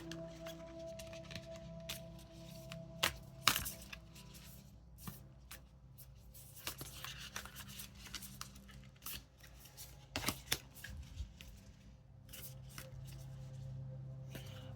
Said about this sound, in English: I'm just giving this a quick shuffle right now.